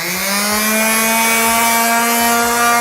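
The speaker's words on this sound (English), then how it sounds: "And it's time for a little sanding." Sanding pine wood for a homemade wine rack: a steady, loud motor whine with rhythmic scraping strokes repeating underneath, close up and with no talking.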